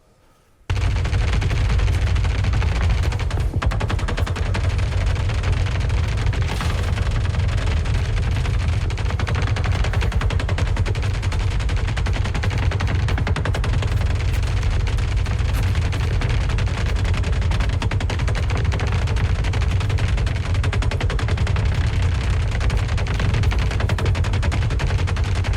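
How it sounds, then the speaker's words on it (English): Gunfire from AI combatants trading shots behind breakable cover and Maelstrom barrels in the Star Citizen video game, a dense, loud, continuous barrage of rapid shots lasting throughout with no voices. "here's some video of some test footage of AI shooting each other behind breakable cover and Maelstrom barrels"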